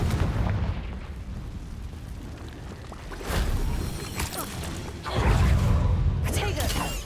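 A Confringo blast spell goes off in the Hogwarts Legacy video game, heavy booming explosions rumbling over continuous game sound, with a voice speaking along the way.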